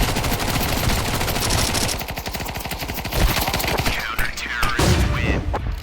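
Rapid automatic gunfire in Counter-Strike 2 on the Dust2 map, dense bursts of loud shots in quick succession, including a Bizon, filling the whole stretch.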